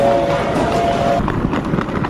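Train rumble at a station platform in Taiwan, with a steady tonal hum fading out, then clattering rail noise, continuous and fairly loud, no voices.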